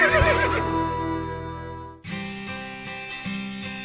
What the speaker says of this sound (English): K-Rose for when love shoots you in the back and steals your horse.